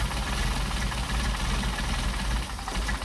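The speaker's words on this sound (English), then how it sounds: "we're going to screw it down and you'll be able to hear the engine bogging" Mercedes 190SL engine with Solex carburetors, bogging as the mixture screw is turned down during carburetor adjustment; a steady, close, rough low-pitched running drone with uneven knocking pulses and no talking.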